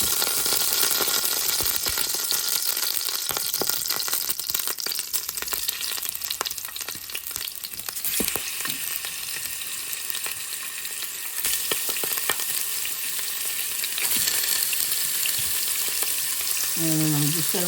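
Pork chops fry in hot oil in a pan in an RV kitchen, a steady loud sizzle running throughout with scattered crackles and occasional clicks and scraping, no voices.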